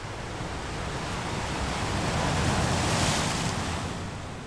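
Surf rolls onto a 1960s beach shore in a steady broadband wash, swelling louder toward the middle and easing off again, with a breezy rush over it and no voices.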